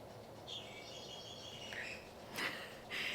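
Electronic chirping bird calls from a cat's bird toy set off when bumped, a few short tweets and trills, fairly faint against quiet room noise.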